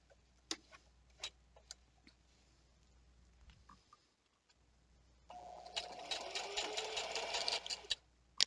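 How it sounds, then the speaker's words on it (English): A sewing machine stitches through cardstock in a steady fast whirring burst that starts partway through, after a few light ticks and taps of positioning the paper. "And now lower in the foot again and start sewing."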